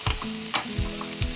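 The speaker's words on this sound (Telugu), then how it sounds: "ఇప్పుడు దీంట్లోనే ఇది వేగుతుండగానే కాస్త చింతపండు, పసుపు, ఇంగు కూడా వేసేసి" A tempering of tamarind, turmeric and asafoetida fries in a pan for tamarind leaf chutney, with a close, steady sizzle broken by rhythmic scraping stirs about every half second.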